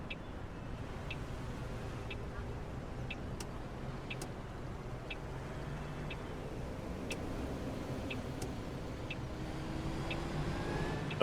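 A car approaches through traffic in the bus-driving game Bus Bound, a steady low engine rumble that builds slightly toward the end, with faint regular ticking like an indicator over it.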